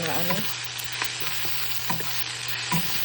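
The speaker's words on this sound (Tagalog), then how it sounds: "Ilagay na natin maraming sibuyas" Plenty of onions and garlic sauté in a hot pan, a continuous close sizzle with occasional stirring scrapes and light clinks.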